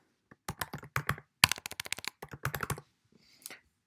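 Someone types on a computer keyboard, close and crisp, with quick bursts of key clicks broken by short pauses, the last taps fading out near the end.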